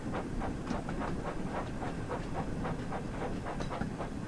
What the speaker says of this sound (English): when you've got Thomas the Tank but you're doing train sim world